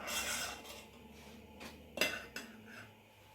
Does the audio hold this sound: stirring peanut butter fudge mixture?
yes